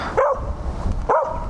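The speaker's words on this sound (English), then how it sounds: "Big dog, little dog." Two barks from a large dog and a small dog during a roadside stop on a sand adventure motorcycle ride, each a short sharp bark about a second apart, fairly close over steady background noise.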